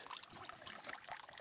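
A small spring on the Appalachian Trail trickles beside a pond, a steady close bubbling and splashing of running water that carries on without a break.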